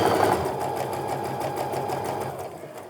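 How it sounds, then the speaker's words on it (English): A sewing machine stitches quilt fabric in a steady, fast mechanical whir with a rapid rhythmic needle patter, close and continuous, easing off slightly at the end with no speech over it. "I'm gonna go ahead and put that right underneath the sewing machine. Start sewing."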